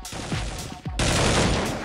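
Rapid gunfire from the video game Counter-Strike 1.6: several sharp shots in quick succession, then a denser, louder burst of continuous fire filling the second half.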